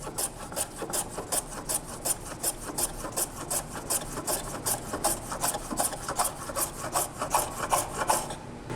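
Thin Kumiko wood strips being trimmed with quick, even back-and-forth rasping strokes, close and fairly quiet, repeating steadily with no talk.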